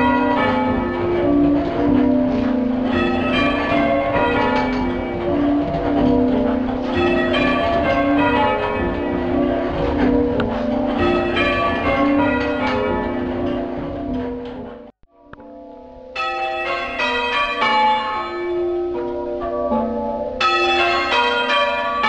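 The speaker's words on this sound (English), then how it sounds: "what the bells sound like when they're muffled on one stroke" Muffled church bells at St Margaret's Church, Wetton, rung with one stroke muffled for Remembrance Sunday: loud, continuous change ringing with alternating clear and damped strokes, briefly stopping before resuming.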